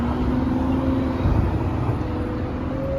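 A Ferrari F12 engine idles with a steady low drone alongside nearby traffic noise, heard up close with no talking.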